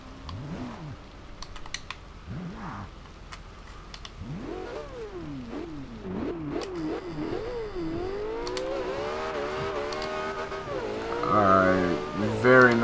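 In the Forza Horizon 2 video game, a Porsche 918 Spyder hybrid with an electric motor launches hard. Its engine revs climb through a run of quick rising sweeps and gear shifts, then build to a loud, high wail.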